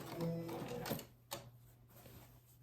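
A sewing machine makes a short burst of back stitching on a quilt binding, a quick mechanical whir followed by a couple of faint clicks, close and fairly quiet.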